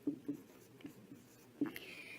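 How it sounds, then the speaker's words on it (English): A pen writing by hand on paper: a quick run of short, soft scratching strokes, close and fairly quiet, with brief pauses between them. "let me write that"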